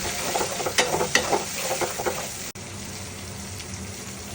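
Prawns fry in a pan with ginger-garlic paste for a cucumber prawn curry, a steady close sizzle broken by a few sharp stirring scrapes and clinks, with a brief dropout midway and no talking.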